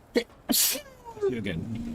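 A single sharp sneeze bursts out close and loud during a Fallout: New Vegas game stream, followed right away by people talking.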